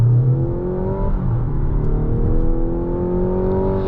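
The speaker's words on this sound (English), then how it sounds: "there's this weird kind of sound going into through second gear" A 2025 Mazda CX-70 PHEV plug-in hybrid SUV shifts into second gear in EV boost mode, its engine note rising as a close, steady hum with an odd whirring tone.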